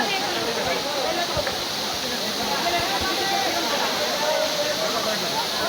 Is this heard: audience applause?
no